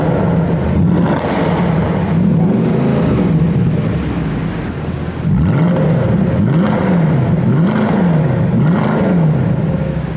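A Mercedes C63 AMG wagon V8 echoes through an underground car park, loud and close, idling with a deep rumble and then blipping the throttle in repeated rising and falling revs.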